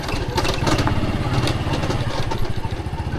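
A motorcycle engine runs steadily while riding through a Pakistani village, a throbbing mid-pitched drone, close and continuous, with wind buffeting and no talk.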